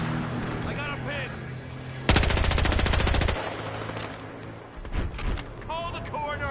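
Rapid automatic gunfire in the video game Battlefield Hardline, a loud dense burst lasting about a second, with players talking before and after and more scattered shots following.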